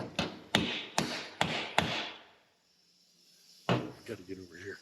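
A hammer strikes metal on a shrunken, cut-down car body being welded, five quick ringing blows in a row, a pause, then one more hit, close and sharp.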